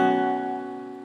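A single open, A-like guitar chord rings out close and sustained, fading slightly over about a second with no other sound.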